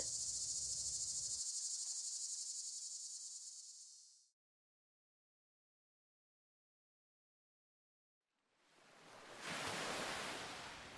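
Loud cricket chirping with a soft wash of surf fades out into a few seconds of silence, then waves rise back in as a broad hiss at the beach.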